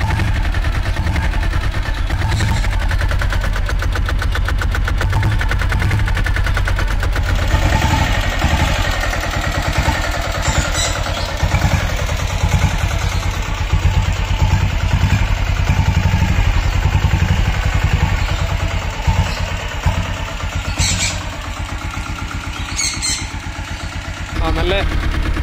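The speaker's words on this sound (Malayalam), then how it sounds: "ഇത്രയും ഒരു സൗണ്ട് ഈ ഡീസൽ ബുള്ളറ്റിനുണ്ട്." A diesel-engined Royal Enfield Bullet motorcycle runs steadily up close, its loud, thumping exhaust chugging without a break.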